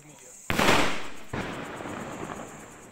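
Diwali sky shot fireworks burst nearby, with a loud sharp blast followed by a second crackling boom about a second later, each trailing into a noisy hiss of debris.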